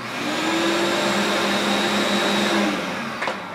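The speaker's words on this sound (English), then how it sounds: "I got one vacuum cleaner in this box, and the reason for that is so that it sounds" A vacuum cleaner runs inside a muffling box, giving a steady, moderately loud whirring drone with a muted, boxy tone that fades slightly at the end, followed by a brief click.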